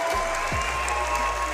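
Crowd at the esports Manchester Major applauds steadily, a dense, loud wash of clapping that fills the whole moment with no break.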